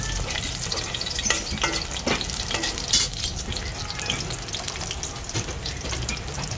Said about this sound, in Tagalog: Brown ng garlic guys